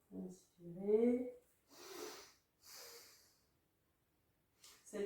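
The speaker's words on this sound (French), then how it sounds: "Inspirez" In a back-strengthening yoga class, a few deep, audible breaths are drawn in and let out in slow succession, breathy and close. A short voiced sound mixes with one of them, and quiet pauses fall between them.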